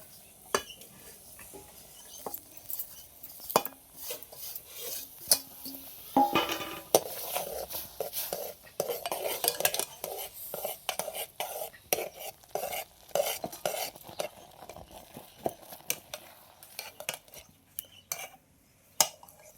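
A spoon stirs bhagar flour into boiling water in a pot, making irregular scraping clicks and soft thuds against the metal that repeat steadily for a while, quiet and close, with no talk.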